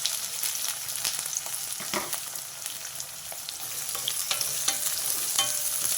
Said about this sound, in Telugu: షాయి జీరా వేగిపోయింది ఉల్లిపాయలు పచ్చిమిర్చి వేసేసా